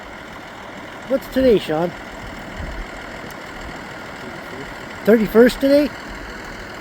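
A tractor engine idles steadily in a hay field on a hot day, a low constant rumble running beneath two short bursts of nearby talk.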